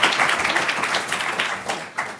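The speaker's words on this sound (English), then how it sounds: "Let's give them a round of applause" An audience applauds a graduate-school finance panel with a brief, dense round of clapping that stays fairly even and close, then tapers slightly at the end.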